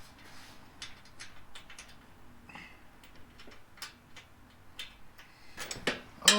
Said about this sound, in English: I'm gonna try and thread this nut by hand